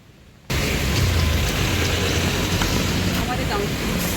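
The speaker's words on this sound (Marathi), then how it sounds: "आणि हा पाऊस तर असा थांबेनाच।" Heavy rain pours steadily outside a Zudio clothing store where construction work is under way, a dense, continuous broadband wash that starts abruptly and holds loud and unbroken, with no talk over it.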